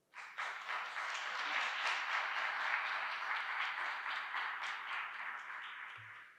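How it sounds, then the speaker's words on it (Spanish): Steady applause from an audience welcoming guests at a public talk on design and public policy, sustained evenly for about six seconds before ending abruptly. "les pido un fuerte aplauso a nuestros invitados"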